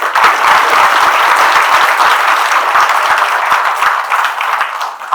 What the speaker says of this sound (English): Let us welcome our Additional Director General with a good round of applause